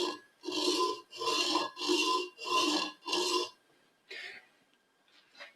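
A tool edge is drawn in five steady, rhythmic strokes across a sharpening stone at an off-grid sharpening station, each rasping pass close and clear, followed by a pause and a couple of fainter scrapes.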